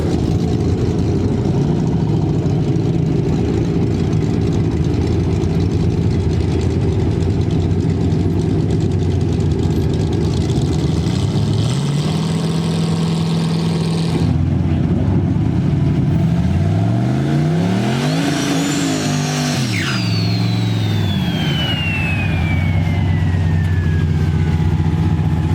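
A drag race car at a no-prep event, on its first pass of a cold day after an oil-down, runs a loud, steady, rumbling idle for most of the stretch, then revs hard and launches with a rising, sweeping roar and a fading high whine.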